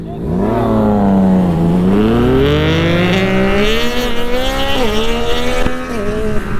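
A Yamaha R7 sport motorcycle accelerates hard from a green light through several rapid quickshifter upshifts, its engine pitch climbing, dropping briefly at each shift and climbing again, loud and close with wind noise.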